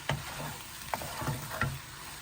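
Egg fried rice stir-fried over high heat: steady sizzle with three or four distinct scraping strokes of a spatula tossing rice in the pan, close and fairly quiet, no talking.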